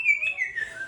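Close, clear whistling chirps from a very vocal caique parrot: one sustained tweet that holds steady, then drifts slightly lower near the end, heard on its own.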